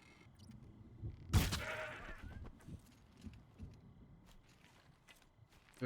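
A goat bleats once in Horizon Zero Dawn, a brief loud cry over faint background game ambience and soft footstep-like sounds.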